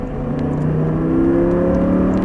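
An Audi R8 accelerates on a race track, a steady rising engine whir building smoothly over a couple of seconds with no voices.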